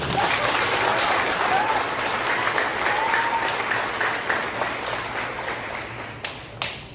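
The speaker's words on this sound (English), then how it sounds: "another round of applause for our teachers." Sustained audience applause for teachers at a sixth grade stepping-up ceremony, a dense wash of clapping throughout that thins slightly toward the end, with a few louder individual claps near the close.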